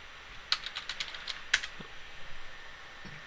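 Computer keyboard typing as commands are entered into a Cisco Packet Tracer session: a brisk run of close, crisp key clicks with one sharper stroke near the middle, then a few scattered taps, no voices.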